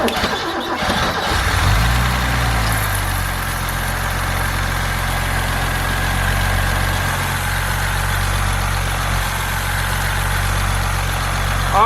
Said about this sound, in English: So the engine is cold, so the RPM will be a little high.